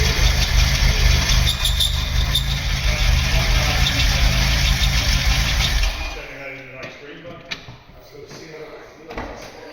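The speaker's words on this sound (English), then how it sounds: "It's had a good soaking on your belts today, you can hear it." A Vauxhall Nova 2.0i engine runs with wet, soaked belts, a loud close mechanical drone with a high whine for about six seconds before it cuts off, leaving faint clicks and quiet background.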